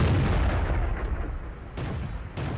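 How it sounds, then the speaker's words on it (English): A tank gun fires in a video game battle, a heavy booming blast with rumbling low tail followed by another distant report, loud and with no voices. "No idea who fired that shot or where it came from"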